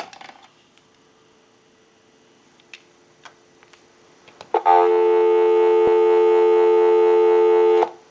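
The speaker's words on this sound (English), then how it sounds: "Go ahead and give you some dial tone." A dial tone sounds on a Western Electric 2554 wall telephone. Quiet clicks and handling taps come first, then the tone switches on loud and continuous for the last few seconds.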